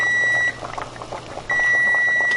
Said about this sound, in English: Timers went off.